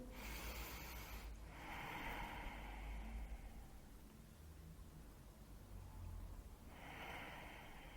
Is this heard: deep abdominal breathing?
yes